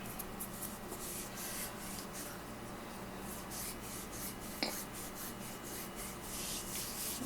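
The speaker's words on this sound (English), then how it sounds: "Rub the candle." Hands steadily rub and clean a holy spirit candle while dressing it, a soft continuous scraping friction with a rhythmic back-and-forth pattern, faint and close.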